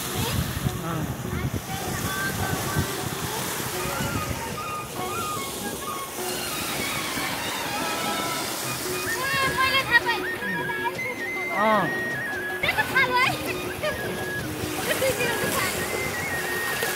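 Sea waves wash and break steadily at Grenen, the northern tip of Denmark where two seas meet, as a continuous surf roar mixed with wind, while people talk over it.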